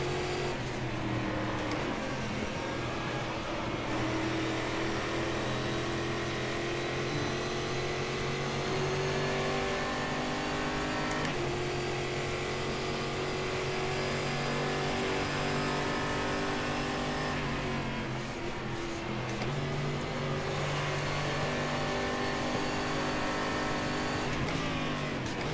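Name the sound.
stock car V8 engine revving in video game Game Stock Car 2013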